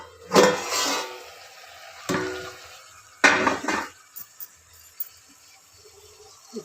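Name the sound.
putting a lid on a pot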